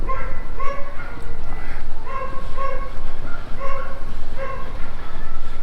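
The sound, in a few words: dogs barking on a city street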